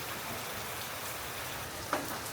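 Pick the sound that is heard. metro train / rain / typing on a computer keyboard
rain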